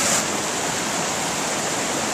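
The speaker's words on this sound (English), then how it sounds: "There's too much water coming down." Spring snowmelt runoff roars through an overwhelmed culvert in a steady, loud, unbroken rush of water, close by and with no voices over it.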